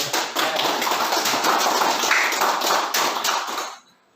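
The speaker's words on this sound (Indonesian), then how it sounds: "tepuk tangan untuk ini" Audience clapping breaks out in a classroom teaching session, a dense, even patter of many hands held for several seconds before stopping abruptly into silence.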